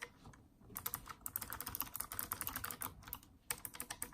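Fast, irregular clacking keystrokes on a slim, portable Anidees mechanical keyboard with clicky blue switches, sharp and close, with a few short pauses between bursts.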